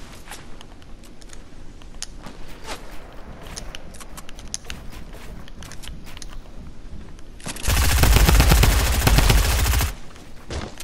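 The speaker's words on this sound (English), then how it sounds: "He's shooting us down." Rapid automatic gunfire in a shooter video game, a loud sustained burst of about two seconds near the end, preceded by scattered sharp single shots over a steady background.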